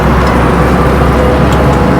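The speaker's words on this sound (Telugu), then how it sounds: "హరిద్వార్లోని ఇప్పుడు ఈ ఆటో ఎక్కాము," Steady, loud engine drone and road rumble from inside a moving auto rickshaw in Haridwar, continuous throughout with no gaps and no talk.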